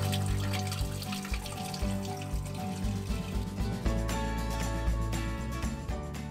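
Drinking water runs from a public tap in Norway, a steady close splashing flow with gurgling as it fills containers, loud and continuous throughout.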